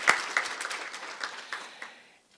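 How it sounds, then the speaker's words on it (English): A short burst of audience applause at a shipping conference award, scattered claps that fade out quickly to silence. "deserve a round of applause from us"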